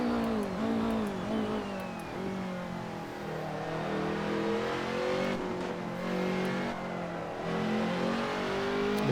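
Onboard a DTM touring race car, the engine climbs slowly through the revs in a sustained, loud drone, with one brief lift and gear change before the rising whine resumes.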